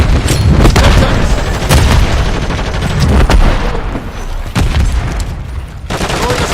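Loud, dense combat in a first-person shooter, with a stun grenade bursting amid repeated booming blasts and bursts of gunfire, sharp impacts spread through the scene over continuous battle noise; radio-style callouts are mixed in.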